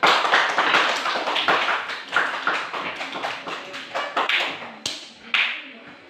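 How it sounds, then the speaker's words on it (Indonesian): A small group claps along in a classroom, uneven, fairly close claps in loose bursts that thin out toward the end. "Tepuk tangan."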